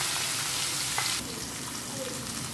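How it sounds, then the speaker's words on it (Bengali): A fish shallow-fries in hot oil, giving a close, steady sizzle that eases slightly partway through. "এখন আমি মাছটা এই তেলের মধ্যে একটু হালকা ভেজে নিব"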